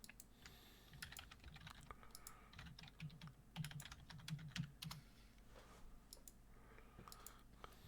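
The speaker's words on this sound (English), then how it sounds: "You're still typing?" Computer keyboard typing, a steady stream of quick clicks and keystrokes close by, alone with no talk.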